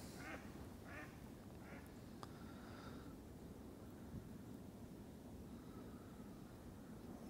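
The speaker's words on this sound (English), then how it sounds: "ducks are flying through" A few faint duck quacks pass by early on as the ducks fly over water, over steady wind rumble, then fade into the distance.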